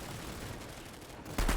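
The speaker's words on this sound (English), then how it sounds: "It's a machine pistol." NS-61 Emissary machine pistol fired in a video game: a short, loud burst of rapid shots near the end after a quieter stretch of game ambience.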